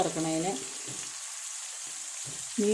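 Fish fries in a pan with a soft, continuous hiss of sizzling oil, and a voice speaks briefly at the start and again at the end.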